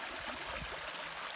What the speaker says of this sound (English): You can see the rocks down there where the water is flowing over